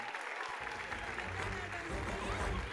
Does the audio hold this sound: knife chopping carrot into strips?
no